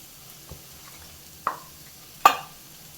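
Ground chicken is stirred into sautéed onions in a pan, with a soft low sizzle marked by three separate spatula scrapes that grow louder, the last the sharpest, and no voices.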